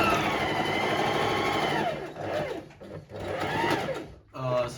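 A sewing machine stitches the side seam of a pair of sample pants in several loud, rapid runs with brief pauses between them. Faint background sound sits underneath the stitching.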